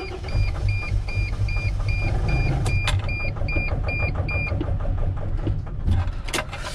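A Mercedes Sprinter T1N engine that was not starting rumbles low and close while gas is applied, with a repeating electronic beep chiming over the engine for several seconds.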